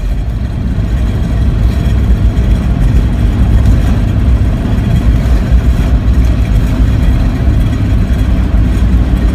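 Riding inside a tiny BMW Isetta as it is towed behind a Range Rover Classic, with a loud, close, continuous low rumble of engine and road noise that holds steady throughout.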